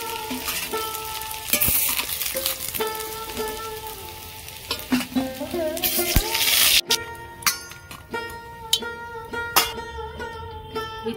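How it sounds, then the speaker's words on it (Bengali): Pieces of food frying in hot oil in a pan, a steady crackling sizzle with occasional stirring clinks, heard close under tonal background music throughout. "সবগুলো আমি ভালো করে ভেজে নিয়েছি"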